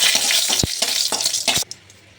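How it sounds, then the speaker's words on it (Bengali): Dry red chillies hitting hot oil for tempering greens set off a loud, close sizzle with crackling bursts and a stir or two, then the hiss drops away sharply near the end. "আর তেলটা গরম হয়ে গেছে, এখানে ফোড়নে দেবো শুকনো লঙ্কা"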